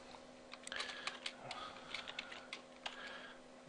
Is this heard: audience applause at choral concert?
no